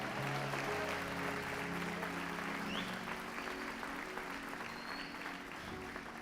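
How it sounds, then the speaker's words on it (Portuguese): A church congregation applauds steadily throughout at a Brazilian worship service, a dense, even wash of clapping with faint voices and a low hum beneath it. "Quem pode aplaudir, dá glória aí."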